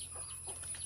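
A laying hen gives a few faint, soft clucks in a brief moment, quiet against a low background hum.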